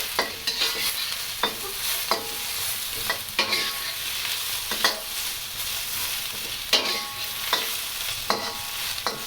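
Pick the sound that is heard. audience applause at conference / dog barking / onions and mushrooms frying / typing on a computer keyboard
onions and mushrooms frying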